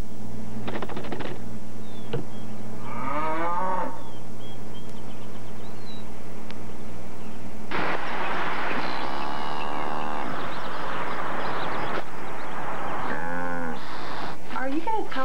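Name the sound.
cow mooing in a commercial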